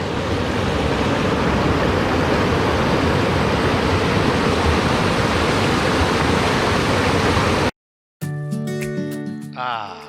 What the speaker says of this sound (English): Just hanging out at a waterfall we came across while riding.